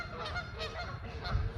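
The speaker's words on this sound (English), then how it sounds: "these ducks are making all this noise right now" Waterfowl honking and quacking repeatedly outdoors, a run of nasal calls at moderate distance with a voice talking faintly underneath.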